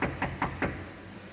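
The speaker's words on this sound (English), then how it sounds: "Give her a knock and see if they're answering." Four evenly spaced knocks on a locked supermarket door, close and fairly loud over a steady background hum.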